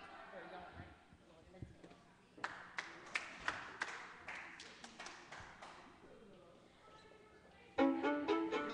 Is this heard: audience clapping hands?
yes